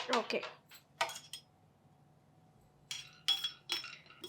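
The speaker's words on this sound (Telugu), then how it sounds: "మనము ఫస్ట్ ఏంటంటే బాదాము డ్రై ఫ్రై చేసేయాలి" Almonds being dry-roasted in a pan on a stove, with sharp clinks and scrapes in brief bursts, separated by a long quiet stretch in the middle.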